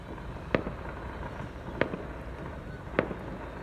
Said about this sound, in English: fireworks displays. They will be going on probably most of the night long